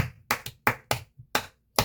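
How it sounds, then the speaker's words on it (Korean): Clapping in a tarot reading session, heard as about seven separate, sharp claps in an uneven rhythm, close and loud with silence between them and no talk. "여러분 박수 한번 주세요."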